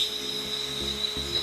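A pressure washer blasting leaves gives a steady high hiss over a low pump drone, with brief bursts as the spray hits, loud and continuous throughout.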